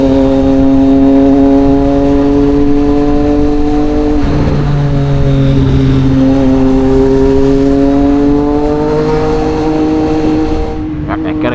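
A Triumph Street Triple 765 RS runs at highway speed, its engine a steady loud close drone with a pitch shift partway through, all under heavy wind rush.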